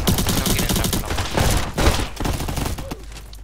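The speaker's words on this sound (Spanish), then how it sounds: "Quería que se escuchen los disparos, pero no que se escuchen tan fuerte." Rapid volleys of gunfire fill the online shooter game Bad Business, dense overlapping bursts of shots that keep going steadily, loud and with no pauses.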